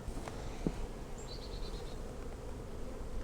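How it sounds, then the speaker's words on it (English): A soft, steady hum of calm honeybees at a hive fills the air, low and continuous, with faint chirps and a brief knock in the background. "Bees are nice and calm."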